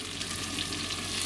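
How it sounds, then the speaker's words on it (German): Meat searing in butter inside a Dutch oven, a steady, dense sizzle and crackle of frying fat that holds at an even level throughout, with no voices. "schön mit anbraten, ringsrum richtig schön Röstaromen verpassen"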